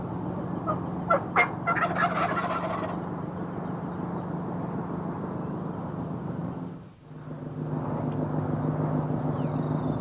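A wild turkey, a young jake, gobbles in a quick rattling burst near the start, over a steady low drone of distant engine noise that dips briefly, then returns.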